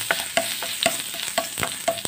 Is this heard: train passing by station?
no